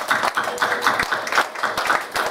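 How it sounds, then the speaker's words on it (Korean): A church congregation claps steadily together for a couple of seconds, a warm room full of applause. "우리 박수 한번 칩니다"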